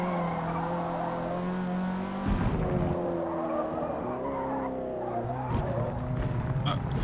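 Race car engine and tire skid in Forza Motorsport, a droning harmonic engine note that shifts pitch with gear changes around two and five and a half seconds, steady and loud with squealing tires throughout.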